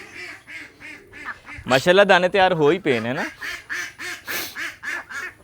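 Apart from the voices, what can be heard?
ducks quacking on a farm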